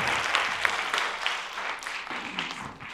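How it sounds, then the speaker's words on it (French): An audience at a university conference applauds a speaker, a steady patter of many hands clapping at moderate volume from a room, lasting the whole stretch with no talk. "On peut encore applaudir Claire, s'il vous plaît."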